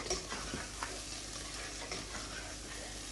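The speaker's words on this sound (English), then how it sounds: "we're going to allow this to cook until the tomatoes completely soften, until they completely disappear" Tomatoes cook in a pan for a potato and pea curry, giving a soft, steady sizzle with faint crackles and light stirring clicks.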